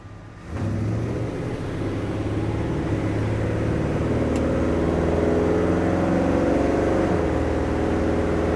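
A 1959 Chevrolet pickup's engine kicks in and drones steadily while picking up speed, its pitch climbing and settling as the transmission shifts through gears, heard from inside.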